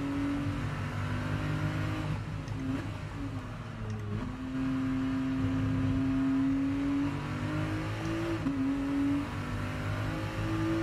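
Nissan GT-R race car engine in Gran Turismo Sport at Laguna Seca, a loud sustained drone that holds steady through a long pull, with dips and rises as the revs shift near the end.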